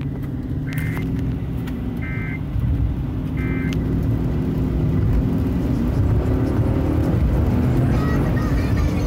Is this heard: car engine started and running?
yes